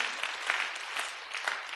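A church congregation claps during a sermon, a dense, steady round of applause that sounds moderately distant in the hall.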